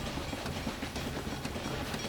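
A cattle train runs in the Railway Empire video game, a steady rumbling rail noise with faint rhythmic clickety-clack, continuous and even, with no voices.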